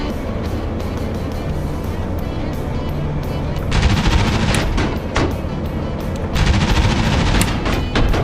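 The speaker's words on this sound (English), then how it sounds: "There's the Panzer IV shooting at me." A Panzer IV tank firing in a video game: loud bursts of gunfire over a heavy rumbling engine-and-battle din, with a couple of dense rapid volleys standing out, no voices.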